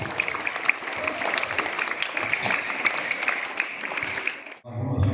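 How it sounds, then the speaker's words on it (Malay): Schoolchildren at a primary school assembly applaud steadily, a dense wash of many small hands clapping close and loud, ending abruptly as a voice begins. "Okey, beri tepukan."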